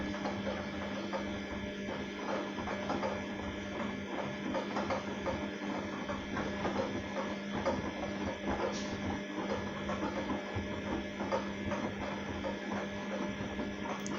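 A washing machine churns through a cotton wash of a duvet and blanket at 60 degrees, a steady close mechanical hum and rumble with soft sloshing throughout.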